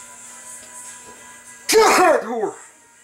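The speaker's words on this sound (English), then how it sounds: "I'm gonna sneeze again." A person sneezes once in a home kitchen. The sneeze is a sudden, loud, explosive burst after a quiet stretch and fades off quickly.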